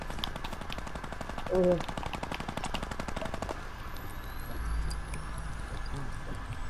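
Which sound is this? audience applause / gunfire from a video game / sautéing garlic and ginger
gunfire from a video game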